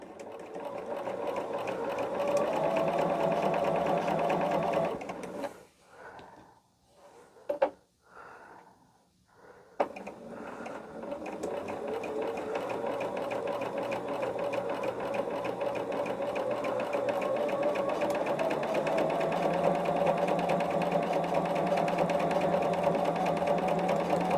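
A sewing machine stitches a quilt block seam with a loud, steady, close whir, breaks off briefly for a few seconds of small handling sounds, then resumes running continuously.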